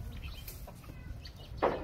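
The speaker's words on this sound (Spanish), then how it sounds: "Un gallo pinto." A faint creole pinto rooster clucks and calls briefly at a distance, with a short louder squawk near the end amid quiet background noise.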